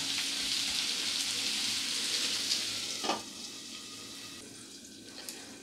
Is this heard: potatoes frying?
yes